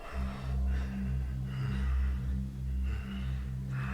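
Slow, heavy breathing of a plush toy monster in a video game swells in and out several times over a low, steady droning hum, like a creature panting in a tense game scene.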